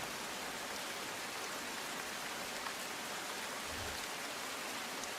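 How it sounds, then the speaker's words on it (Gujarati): Heavy rain pours down in Surat, a dense, steady wash of broadband hiss without pause, with a faint low thud partway through. "સુરત જિલ્લા સહિત સુરત શહેરમાં ધોધમાર વરસાદ વરસી રહ્યો છે"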